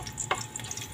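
Quick, soft stirring of string beans in hot cooking oil for Filipino adobong sitaw, with a light sizzle and one brief scrape across the pan in a second-long moment, and no one speaking.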